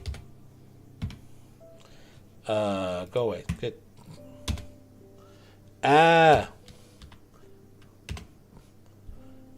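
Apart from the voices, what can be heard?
typing on a computer keyboard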